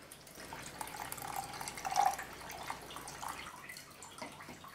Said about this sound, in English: pour it through a sieve,